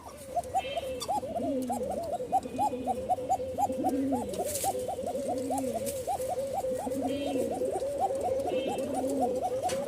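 Long-calling domestic pigeons (a male and its pair) coo nearby in a steady, rapid run of rolling, rhythmic calls, repeated phrase after phrase against faint background noise.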